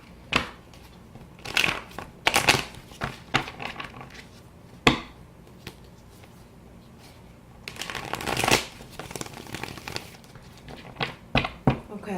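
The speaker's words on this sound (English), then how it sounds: "I think I'm going to shuffle it one last good time, and then we'll cut the deck." A tarot card deck being shuffled in several bursts of crisp riffling and slapping, with short pauses between them; close and fairly loud, with no talking.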